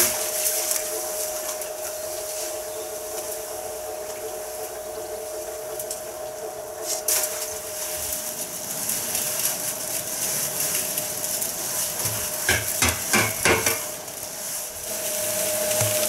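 Mortar being mixed in a bucket for a DIY garden project, a continuous wet scraping and stirring under a steady machine hum, with a few knocks and clatters near the end.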